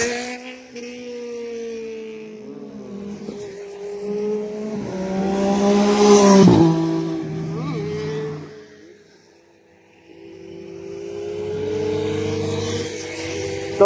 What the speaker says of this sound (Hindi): आपको बाइक्स दिखाता हूँ मैं, सुपर बाइक्स।